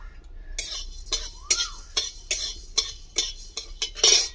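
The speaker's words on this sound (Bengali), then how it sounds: "শুকনো কড়াইয়ের মধ্যে আমি কিছুটা মশলা ভেজে নেব। ধনা আর জিরা, গোটা জিরা ধনা ভেজে নেব।" Whole cumin and coriander seeds are dry-roasted in a dry wok. A spatula scrapes and clinks in rhythmic strokes about every half second, close and fairly quiet, with no talking.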